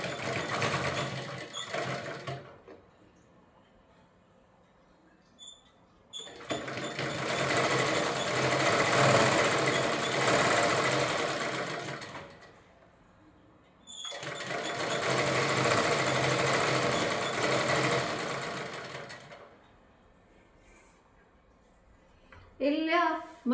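A sewing machine stitches a palazzo pant in two long steady runs of fast, loud, close whirring, separated by quieter pauses with a little handling.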